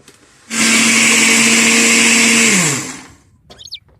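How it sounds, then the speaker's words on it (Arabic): A blender grinds almonds with sugar in one loud, steady roar lasting about two seconds, then winds down and stops, close up with no talk. "بعد ما كملت رحيت اللوز مع السكر"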